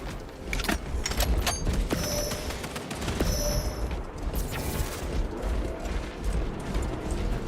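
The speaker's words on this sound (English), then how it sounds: "Reloading!" Weapon reloading in Warhammer 40k Space Marine 2 comes through as a clatter of metallic mechanical clicks and ratcheting amid loud battle noise and scattered gunfire, with sharp transients spread across several seconds.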